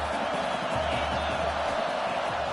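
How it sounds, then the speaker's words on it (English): A stadium crowd roars steadily in a college football video game, CFB 2026, a dense constant cheering wash with no distinct voices. "This crowd knows when to bring it."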